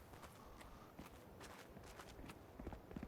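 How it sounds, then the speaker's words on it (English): Footsteps in the video game Marauders, a soft, steady patter of steps that seems to come from a floor above or below, faint and muffled under a constant noisy background, with no talk. "that footstep you can hear there I believe is above me or below me"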